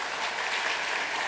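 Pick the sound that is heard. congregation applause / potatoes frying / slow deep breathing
congregation applause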